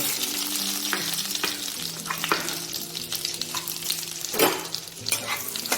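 Cashews fry in hot ghee for a pumpkin payesh, a continuous close crackling sizzle with occasional spoon stirs and scrapes, loud and steady with no voices.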